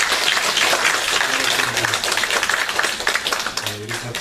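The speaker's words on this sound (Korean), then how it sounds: "박수로 환영하도록 하겠습니다" A church congregation applauds during a Sunday worship service, loud dense clapping filling the room with a faint voice murmuring underneath.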